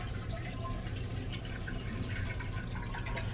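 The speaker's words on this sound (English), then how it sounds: "Flush your toilet, hold it all the way down." Water drains steadily from a toilet tank after a flush, a continuous close-up gurgling rush with faint dripping and trickling, loud and unbroken throughout with no talking.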